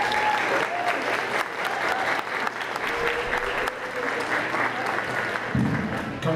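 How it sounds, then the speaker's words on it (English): An audience at a middle school winter band concert claps steadily and continuously for several seconds, a dense, even roll of applause with a faint voice briefly audible beneath it. "One more round of applause for Mr."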